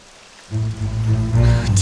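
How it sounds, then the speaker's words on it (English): Rain begins falling in the video game Dragon Quest XI, entering abruptly after a half-second of near quiet as a sudden wash of patter, underpinned by a steady low musical hum. "It would have to go and start raining, wouldn't it?"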